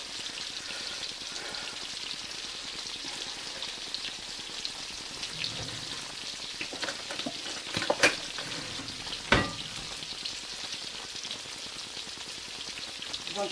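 Sauce for chicken Dijon Parmesan bubbling and thickening in a pan, a steady close hiss and sizzle with a couple of sharp clinks or pops partway through, no voices.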